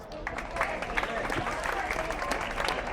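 A crowd at a running race ceremony claps, a dense, steady applause lasting a few seconds with a voice faintly over it.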